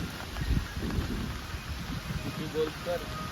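Heavy rain pours steadily with low rumbling underneath, a few faint voices and a short whistle-like tone breaking through.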